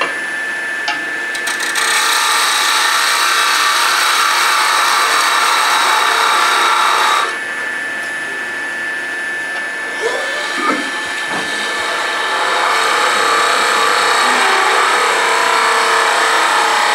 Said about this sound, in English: I'm going to start off making a quarter inch tenon.